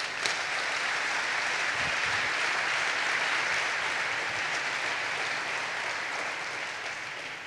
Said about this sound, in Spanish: Nada más por eso merece este fuerte aplauso Cristo Jesús.